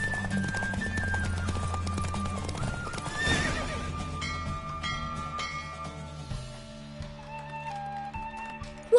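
Galloping horse hooves in a race in the video game The Witcher 3, a steady rapid clip-clop running under sustained musical tones, with a loud whinny-like swell partway through and no speech.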